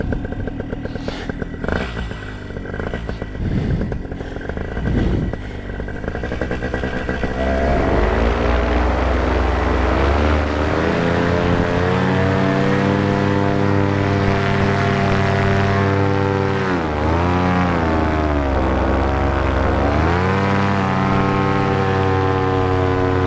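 A propeller airplane takes off, its engine first idling roughly and then rising into a loud, steady, buzzing drone that holds with slight pitch wavers, close and with no voices.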